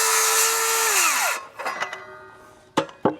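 An older backup miter saw cuts bevels in a log board: a loud, steady motor whine runs for about a second and a half, then spins down as the blade slows, followed by a few sharp knocks and clunks of wood being handled.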